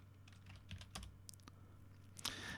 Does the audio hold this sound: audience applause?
no